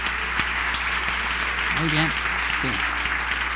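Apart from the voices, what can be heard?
applause for the Lord in church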